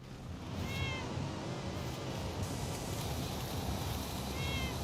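A cat-meow car horn honks in Forza Horizon 5 against steady, loud game engine and road noise, with short wavering meow-like tones sounding twice.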